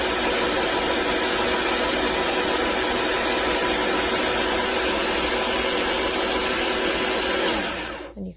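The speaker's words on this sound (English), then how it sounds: "You can actually set your grind time here and just kind of hit go" Neretva 2-in-1 stainless burr espresso grinder grinding coffee beans on a set timer, a loud, steady whirring drone that holds for about eight seconds before cutting off abruptly.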